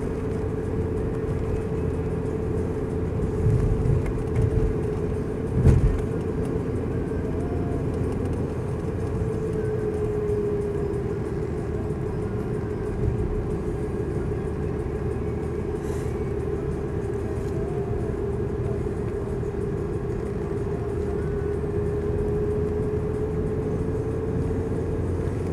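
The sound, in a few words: BMW 318iS 1.9 coupe being driven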